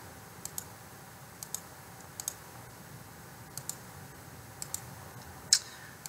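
A computer mouse clicks at a steady, unhurried pace while paths are traced with the pen tool in Adobe Illustrator, faint and close, each click a short isolated tick in a quiet room with no speech.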